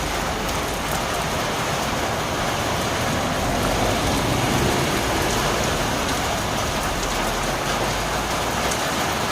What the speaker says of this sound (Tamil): நல்ல மழை பிடிச்சிருக்கு